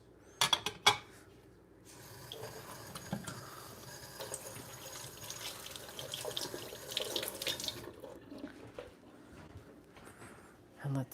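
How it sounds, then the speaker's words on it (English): Hands are washed under a running kitchen tap, with a steady stream of water splashing into the sink and a few clinks of dishes at the start and end. The sound is fairly close and carries no talk. "gonna wash my hands"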